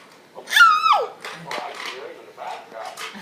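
A dog whines and yelps in high, wavering cries, close and fairly loud, with people talking quietly around it.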